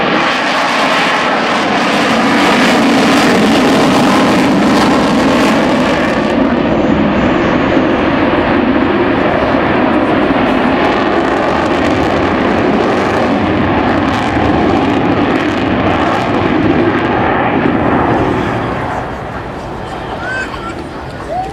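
An Avro Vulcan bomber at the Farnborough Airshow accelerates away on its Rolls-Royce engines, a loud, sustained rumbling roar under crowd babble that holds for a long stretch before easing off near the end.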